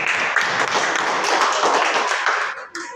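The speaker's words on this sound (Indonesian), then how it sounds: "Oke, tepuk tangan." Schoolchildren in a classroom clap their hands together in a dense, steady patter that fills the whole stretch, close and fairly loud, then briefly dips near the end.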